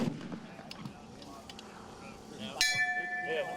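A bullet strikes a steel target at extreme long range in a shooting competition, giving one sharp clang that rings on with a sustained metallic tone over a quiet outdoor murmur.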